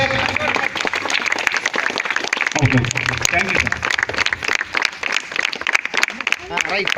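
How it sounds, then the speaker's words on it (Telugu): Audience clapping at a 2017 Seva Sankranthi youth gathering: a steady, dense patter of many hands that lasts throughout, with someone talking loudly over it. "కమిటీ వారి తరఫు నుంచి గట్టిగా చప్పట్లు కొట్టండమ్మా"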